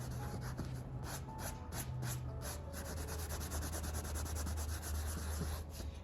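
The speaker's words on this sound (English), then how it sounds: "So usually what I like to do is sand it down, try to get rid of all the big ridges, get all the loose material out of the way." Steady hand sanding of a leather furniture surface with 220 grit sandpaper, a continuous dry rubbing and scratching texture in quick back-and-forth strokes, close and fairly quiet, with no talking.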